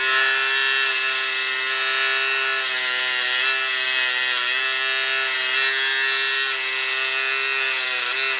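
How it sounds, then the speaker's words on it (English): Electric hair clippers buzz steadily and close up as they shave against the grain for a high fade, a constant whining hum that shifts slightly as the blade moves through hair. "we're going to shave very slowly against the grain"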